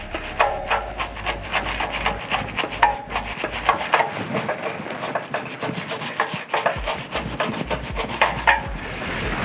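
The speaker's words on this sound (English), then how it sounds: "I've got like a little brush here, and this just means that I can really get into like the cassette" A small brush scrubs a bike cassette and chain area during winter cleaning, giving continuous close, rapid bristly rubbing and scraping strokes with steady rhythm and no talk.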